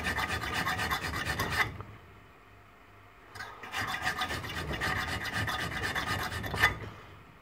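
Hand file rasping across the bevel of a hunting broadhead as it is converted from double to single bevel, steady close strokes in two bursts separated by a short quiet pause.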